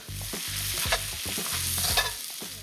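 Noodles stir-fried in a hot pan with spring onion greens, a steady close sizzle under rhythmic scraping and tossing strokes of the utensil.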